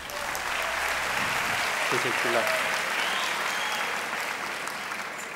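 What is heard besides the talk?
audience applause after a magic trick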